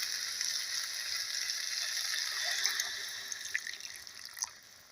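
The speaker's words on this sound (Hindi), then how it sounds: "तो इसी टाइम हम इसमें ग्रेवी के लिए जो पानी डालेंगे वो पानी डाल देंगे।" Water poured into a pan of roasted cowpeas (lobia) to make gravy, a steady close splash and trickle with faint sizzling and a few drips near the end, no talking.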